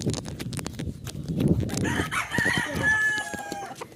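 A conditioned fighting rooster crowing outdoors, one drawn-out crow rising over ongoing clucking and farmyard bustle, fairly near and moderately loud, with scattered background voices.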